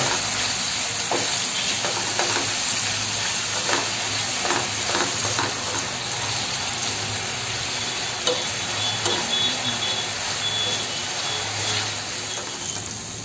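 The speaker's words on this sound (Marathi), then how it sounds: "छान कांदा आणि टोमॅटो व्यवस्थित भाजेपर्यंत आपण मीडियम गॅस ठेवून ढवळत राहायचं आहे" Chopped onion and tomato fry over medium heat while being stirred in a pan for a dried shrimp dish, a continuous sizzle with soft scraping spatula strokes, no speech.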